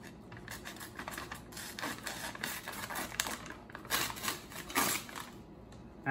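A cheap supermarket kitchen knife sawing back and forth through paper, giving a rough, repeated scratching and tearing rasp that rises and falls in short strokes, close up with no talking.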